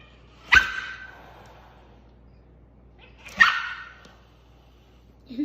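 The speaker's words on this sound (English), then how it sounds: "You sound like a dog." A dog gives two sharp, separate barks about three seconds apart. Each bark is fairly close and rings out briefly over quiet background noise.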